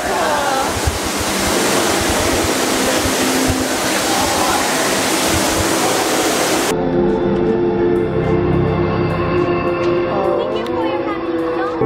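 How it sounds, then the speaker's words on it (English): A loud, steady roar of rushing, falling water fills the whole stretch, unbroken and close by, its tone shifting slightly partway through. "So we're walking up this like waterfall thing."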